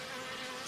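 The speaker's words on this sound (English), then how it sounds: "The bees swarmed round it happily." Bees swarm around a warm steam engine's boiler as a steady, close buzzing drone that swells louder at the very end.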